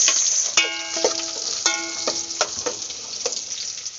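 Onions and garlic frying in a pan over a wood fire: a steady, close sizzle broken by several ringing metallic clinks from stirring.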